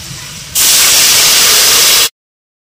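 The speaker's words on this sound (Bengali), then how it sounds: "এবার আমি জলটা দিয়ে দেব।" Water poured into a hot frying pan of fried potatoes for a katla fish curry bursts into a loud, sudden hiss that holds steady for about a second and a half before cutting off, heard up close with no talk.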